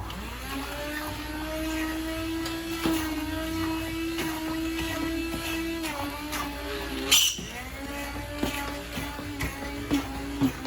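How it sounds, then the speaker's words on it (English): A hand blender whirs through cooked pinto beans with a steady motor hum and faint clicks and knocks against the container. "I'm going to use my hand blender to blend these."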